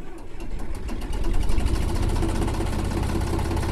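Eicher Königstiger EA400 tractor engine in Farming Simulator 19, cranking and catching into a steady, loud, continuous old-style diesel rumble with a fast rhythmic pulse, no talk over it.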